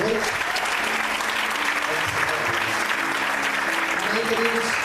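A church congregation applauds together in steady, dense, continuous clapping that stays close and even throughout, with voices faintly mixed in.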